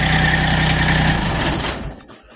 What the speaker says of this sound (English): it's a good tractor